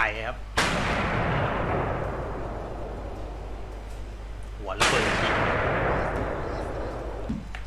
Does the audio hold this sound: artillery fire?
yes